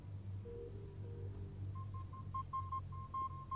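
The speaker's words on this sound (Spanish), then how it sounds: "Y el sonido Morse ese." Morse code beeping in The Solus Project video game, a faint series of short and long tones in an irregular pattern over a low ambient hum, following a few softer tones.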